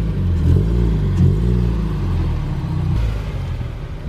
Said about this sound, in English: We're gonna be doing a gender reveal burnout.